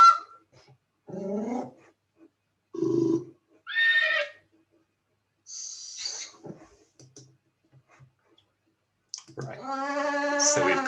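Short animal sound effects from the Scratch sound library play one after another with silent gaps between them, including barking, growling and a horse-like whinny.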